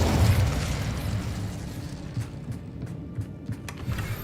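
An Incendio fire spell bursts in Hogwarts Legacy: a loud whooshing blast at the start that fades into a lower rumble, with a few small crackling pops trailing after.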